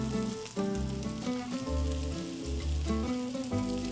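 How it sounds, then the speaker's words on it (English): Maitake and white beech mushrooms sizzle in a hot pan over medium-high heat, a soft steady frying hiss that stays low under a steady background music bed with no voices. "So now that we have our maitakes and our white beech mushrooms browning"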